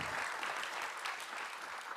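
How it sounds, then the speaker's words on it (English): Applause from a conference audience at an afternoon plenary session, a brief, steady, moderately distant wash of many hands clapping with no voices over it. "A big round of applause for Shinta."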